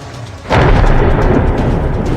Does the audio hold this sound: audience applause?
no